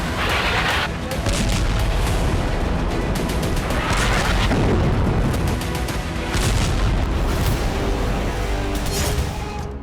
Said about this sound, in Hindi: बंकर बस्टर बम का इस्तेमाल किया।